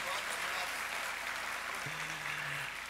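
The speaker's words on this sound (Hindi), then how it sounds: "एक बार पुनः जोरदार तालियां।" Audience applause at a Shantikunj golden jubilee ceremony, a dense steady wash of clapping throughout, with a brief tone partway through.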